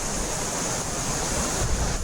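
The waterfall at Mandle village near Mahad, Maharashtra, pours as a continuous broad rushing roar, a steady even wash of water with no breaks.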